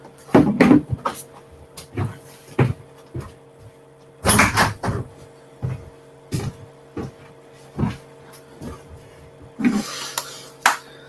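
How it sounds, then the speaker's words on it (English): A door is pulled shut indoors, followed by a run of close clicks, knocks and thuds spread across several seconds, loud and near with no talking. "Let me just go and shut my door"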